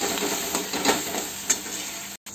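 Pav bhaji masala is stirred in a pan, with soft sizzling and scraping strokes and a couple of sharper spoon taps close by.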